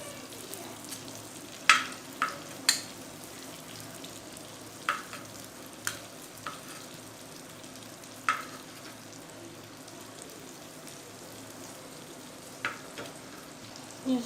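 Reshmi kababs fry in a pan with a low, steady sizzle, broken by a scattering of sharp clicks and taps as they are turned over with a utensil.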